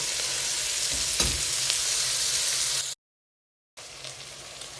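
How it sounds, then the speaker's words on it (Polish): Steady, dense sizzling of sausage and onion frying in a pan, loud and continuous, with a brief stir and a short gap of silence near the end. "Do podsmażonej lekko e, cebulki dosypujemy kiełbasę i smażymy dalej."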